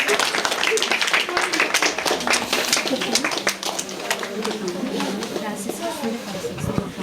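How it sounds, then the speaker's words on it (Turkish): Group of children clapping at a charity coat-and-boot campaign event for kids, scattered claps running steadily through the clip beneath adult talk. "Çocuklar bir alkışlayın bakayım Merve ablanızı."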